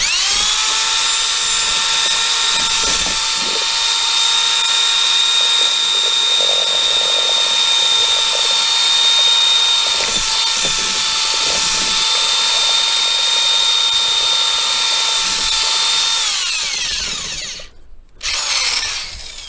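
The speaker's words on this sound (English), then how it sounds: "with the 1/2-inch drill, I got almost a perfect creamy mud" A half-inch power drill whines steadily at high pitch for most of the clip, grinding through thick drywall mud as it mixes, then stops abruptly near the end.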